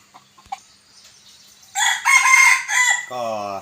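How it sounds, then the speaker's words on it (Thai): A bantam rooster crows once, loud and close, after a few faint clucks, with a drawn-out call that breaks into a stuttering, laugh-like ending. "ไก่หัวเราะครับผม"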